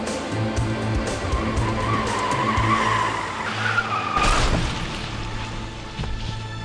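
A car skids with a long tire squeal and then crashes into another car, giving a loud impact on a city street. The skid and crash sound close and loud, with no speech.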